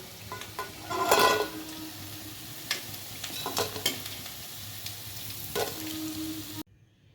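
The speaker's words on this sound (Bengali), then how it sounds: "এবার বাকি পকোড়াগুলো ভেজে নেবো আমি" Mixed winter vegetable pakoras fry in hot oil with a steady sizzle, broken by a few stirring scrapes and clinks of a utensil against the pan, close and clear before a sudden cutoff.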